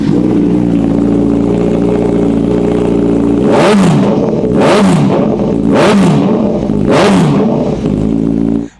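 A loud superbike with an aftermarket exhaust idles harshly, then revs sharply four times in quick succession before cutting off abruptly.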